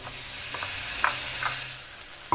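Spice paste is stirred into brinjal frying in a pan, a steady soft sizzle broken by a few light scraping knocks of the spoon, close up and without talk.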